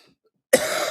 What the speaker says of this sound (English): I still have a leftover cough from the COVID last week.